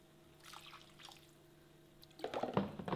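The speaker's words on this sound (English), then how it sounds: "you want to ladle in some stock. And I have here turkey stock that we made a few days ago." Turkey stock is ladled into a mushroom risotto. Faint drips and a wet splash and squish come near the end, close by and quiet, with low background hum.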